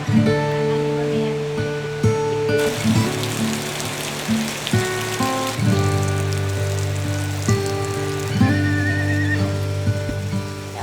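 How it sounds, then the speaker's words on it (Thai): A horse whinnies repeatedly, loud and close, its calls rising and falling over steady rain pattering on a surface; no one speaks. "นี่ตอนนี้ม้าก็มาแล้วนะคะ"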